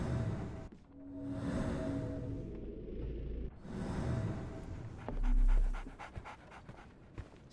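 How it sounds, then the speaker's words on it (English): A dog pants in the Sherlock Holmes: The Awakened video game on Xbox Series X, with quick close breaths coming in bursts and a few soft swishes between them. "So, Barnes has a dog now."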